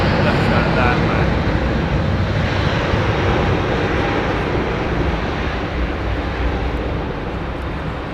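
An Emirates Airbus A380 airliner at Heathrow gives a steady, loud engine roar that fills the whole stretch and eases slightly toward the end, with voices talking over it.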